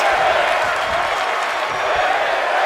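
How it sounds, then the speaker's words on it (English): The simulated Atlanta arena crowd in the WWE 2K22 wrestling video game roars loudly and steadily throughout a match, a dense, unbroken wash of cheering. "The Atlanta crowd losing their minds."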